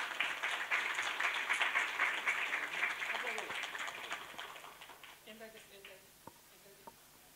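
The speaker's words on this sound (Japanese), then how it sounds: "皆さん拍手でよろしくお願いします" Audience clapping at a Good Life Award symposium closing ceremony in Japan, a steady dense patter of hands for several seconds that thins and fades into a few scattered claps near the end.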